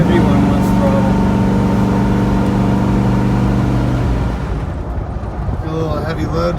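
Jeep Cherokee Chief with a swapped LS engine revs through its muffler with a deep, loud, tonal drone that drops off near the end, while people talk over it.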